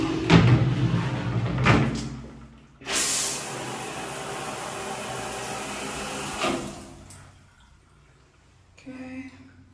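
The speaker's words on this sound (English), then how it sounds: "Sliding door is working." A bathroom shower's sliding door during a rental inspection, rolled along its track several times: short bursts of hissing, scraping glide with a heavier sweep in the middle, then a quieter pause and a final soft rattle, close by and without talk.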